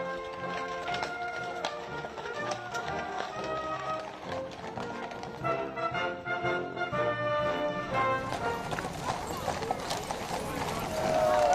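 Horse-drawn carriage hooves clip-clopping at a royal state welcome at Windsor Castle, a steady rhythmic trot under brass band music and crowd ambience.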